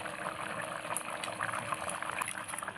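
A pot of chicken kurma curry with coconut milk bubbles at a steady simmer, a soft continuous burble with small pops rising through it, close by and fairly quiet.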